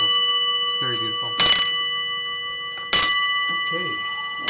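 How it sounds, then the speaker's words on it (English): A loud bell strike from an old-style country lantern clock in a farmhouse sounds twice, each ringing hit decaying slowly, with a person talking softly between the strikes. "this is an old-style country clock, and the strike is called a lantern clock because of the shape"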